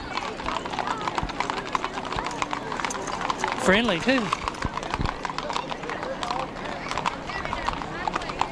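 Horse hooves clip-clop on pavement during a Mule Day parade, steady and fairly faint beneath crowd noise and nearby talk, with a single brief whinny partway through.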